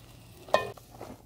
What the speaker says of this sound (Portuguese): A gente vai mexer.